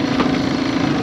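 A Suzuki outboard motor on a Honwave T35 inflatable boat runs after a pull start, giving a steady close, buzzing idle with a slight rhythmic pulse.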